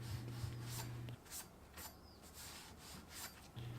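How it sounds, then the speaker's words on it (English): Sandcloth scrubbed along the outer edge of a copper tube before soldering, giving soft, close rasping strokes in a few bursts over a steady low hum, with no talk. "using sandcloth, you would clean the outer edge of the copper tube"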